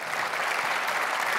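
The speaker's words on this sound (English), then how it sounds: "one more round of applause for our honorees tonight" Audience members at an awards dinner applaud the honorees, a steady, dense burst of clapping filling the room with no voices over it.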